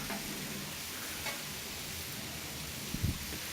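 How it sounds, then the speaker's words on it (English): Bacon fries in a pan as it is turned over, giving a faint, steady sizzle throughout and a brief clink near the end. "All right, we're going to get our bacon turned over here."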